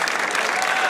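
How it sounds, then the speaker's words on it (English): A crowd at the World Cup of Pool draw gives Carl a brief burst of applause, a close, even clatter of many hands lasting under a second. "Let's give Carl a round of applause."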